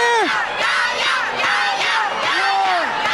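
A packed boxing crowd at a cruiserweight title bout roars, whoops and shouts loudly, with rising and falling yells layered over a constant wall of cheering.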